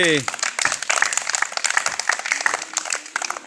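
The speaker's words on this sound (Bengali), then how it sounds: "খুব সুন্দর হয়েছে, জোরে তালি হবে।" Children clap together after a rhyme recitation in a temple-based classroom, a brisk run of uneven, fairly close claps with voices over them.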